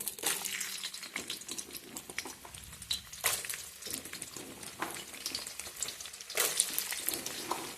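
Moringa pods tipped into hot oil for pickle, frying with a steady broad sizzle that swells in bursts as they are stirred, close and fairly loud with no voices.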